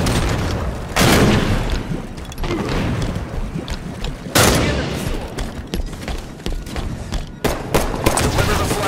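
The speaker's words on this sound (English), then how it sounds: "Tossing a nade." Grenade blast in Halo 5: Guardians on Xbox One, heavy booms standing out amid constant gunfire and game noise, with players talking over the chaos.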